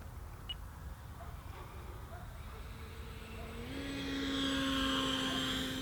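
An E-flite Viper RC jet flying with its flaps fully down. A faint, distant whine rises in pitch and grows louder as the jet draws nearer toward the end.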